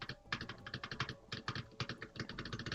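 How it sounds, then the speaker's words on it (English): Rapid typing on a new computer keyboard, a dense run of close, crisp key clicks with heavier spacebar thumps mixed in, steady and loud with no voices. "Man, my new keyboard is the spacebar is so much lighter to press"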